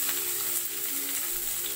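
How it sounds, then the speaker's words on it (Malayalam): Chopped garlic frying in hot oil for a Kerala chicken roast makes a dense, steady, close-up sizzle with a faint underlying tonal hum, continuous and even for the whole stretch. "ഇനി ഇതിലേക്ക് നമുക്ക് വെളുത്തുള്ളി ചോപ്പ് ചെയ്ത് വെച്ചതാണ് അത് കൂടി ഇട്ട് കൊടുക്കാം"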